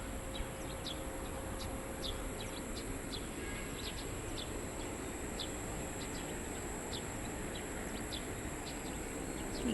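A bird calling from a treetop at sunset, short, sharp chirps repeating at irregular intervals, fairly distant and faint above a steady hum of insects or background noise.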